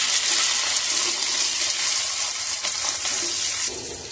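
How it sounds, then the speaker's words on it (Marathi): Potato pieces sizzle and crackle in hot oil in a pan, a steady, close hiss that holds for several seconds before easing off near the end, with no one talking. "तेल तापलं आपलं, आता घालू याच्यामध्ये बटाटा।"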